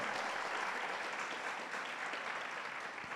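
A church congregation applauds steadily throughout during a Bible study, a dense, even wash of many hands clapping at moderate distance with no pause.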